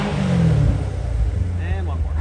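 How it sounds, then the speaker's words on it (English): A 2017 Chevrolet Corvette 3LT Z51 with an automatic transmission gives one short engine rev that quickly falls back to a low rumbling idle, heard close up while someone talks. "I'm going to give it a couple revs for you guys."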